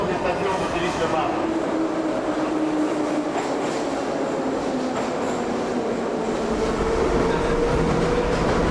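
A Moscow metro train rumbles steadily through a tunnel, with a continuous loud roar of wheels and car noise throughout and faint voices beneath.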